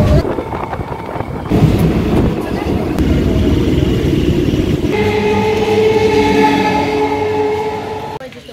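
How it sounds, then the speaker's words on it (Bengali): A Bardhaman local passenger train runs with a loud, continuous rumble of wheels on rails and rattling carriages, a tonal horn or whistle sounding through the middle, with voices talking over the din. "সাথে সাথে ট্রেনে ঢুকে গেছে বর্ধমান লোকাল"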